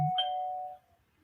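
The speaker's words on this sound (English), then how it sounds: "Somebody ring my doorbell." A single doorbell chime rings once, a bright tone that sustains and then fades over about a second, heard alone in a quiet indoor room.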